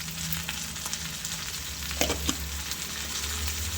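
Chopped tomatoes fry in hot oil in a pan for a sambar, giving a steady, close sizzle with a couple of soft stirring scrapes and no voices.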